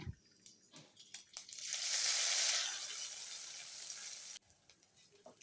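Ground paste of green chilies, garlic and coconut hits hot oil already crackling with cumin and mustard seeds, bursting into a loud, steady sizzle that swells, holds for a couple of seconds, then cuts off abruptly into quieter kitchen sounds.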